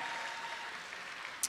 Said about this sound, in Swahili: Pigeni makofi yanayoeleweka